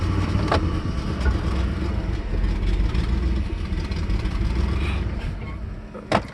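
A computer-controlled engine converted to run on propane idles roughly and unevenly, a steady close rumble that seems to falter as it struggles to hold idle, with a brief louder bump near the end.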